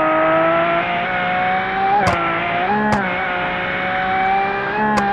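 A Lamborghini Aventador in the BeamNG.drive driving game, its engine holding a loud, steady high drone with tonal harmonics, briefly dipping and recovering in pitch around three quick gear changes.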